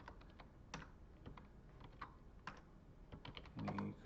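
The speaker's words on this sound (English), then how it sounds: "I'm not used to this keyboard. I have some typos." Rapid irregular keystrokes on a computer keyboard during a live class stream, close and clear, with a brief louder cluster of clicks near the end.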